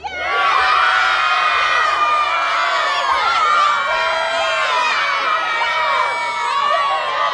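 A large crowd cheers and shouts loudly and continuously, with high-pitched whoops and children's screams layered over a dense roar of voices.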